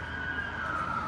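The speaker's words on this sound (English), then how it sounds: "Ambulance." An ambulance siren wails steadily in the background, a sustained high tone holding across the moment with slight pitch drift, moderately loud under a noisy backdrop with no talk.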